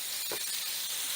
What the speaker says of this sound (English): You want to hear that sizzling in that beef.